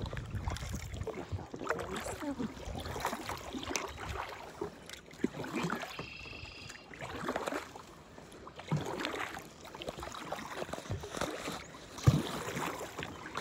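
Paddles dip and stroke through a weedy, untreated natural pond, giving soft splashes and trickles in an irregular rhythm with faint drips between strokes, fairly close and with no talking.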